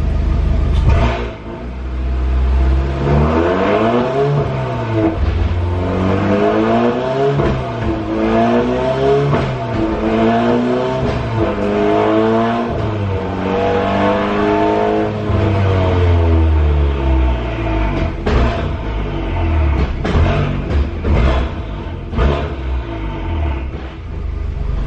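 A Volkswagen MK7 Golf R engine revs up through the gears in a garage with the wheels off the ground, loud and close, rising in repeated sweeps with brief dips at each shift and a settling hum toward the end.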